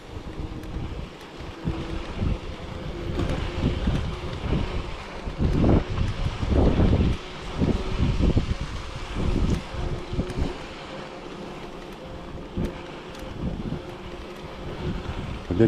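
Gusty wind buffets the microphone outdoors by water on a grey day, rising into loud rumbling blasts in the middle and easing to a lower, steady rush, with faint lapping of small waves underneath.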